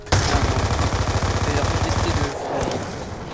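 Rapid gunfire from a multiplayer match of Call of Duty Black Ops 2 on the Turbine map fires in a loud, continuous burst of close shots for about two seconds, then fades into quieter game ambience.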